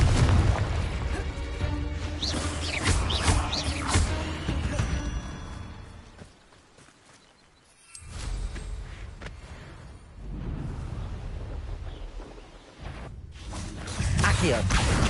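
Confringo blasting spells explode in Hogwarts Legacy: repeated heavy booms and crackling bursts with whooshes, interrupted by a brief near-silent lull before the blasts resume, with game voices and effects around them.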